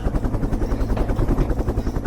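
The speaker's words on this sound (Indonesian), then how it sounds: "kami harus bergantung pada penerbangan helikopter untuk mendapatkan gambaran penuh tentang situasi di lapangan" A helicopter in flight gives a loud, close, throbbing rotor chop, fast, regular pulses over a deep engine rumble, with no voices.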